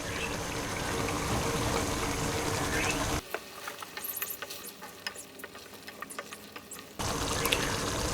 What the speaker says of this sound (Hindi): 1 कप दही डाल देता हूँ इसमें।